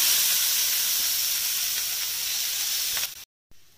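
Chopped onion, green chilli and coriander leaves hiss loudly in a hot pan, a steady close sizzle that holds even for about three seconds before cutting off briefly.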